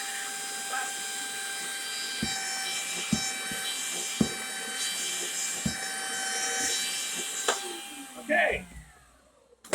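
A Bissell Premier vacuum cleaner's suction motor runs as a steady whining hum with high tonal overtones, punctuated by sharp knocks and handling clicks, while someone talks quietly over it.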